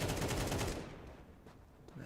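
Quick rifle fire rattles in a Counter-Strike match, a burst of shots in the first second that then fades, with a few faint later cracks and no talk.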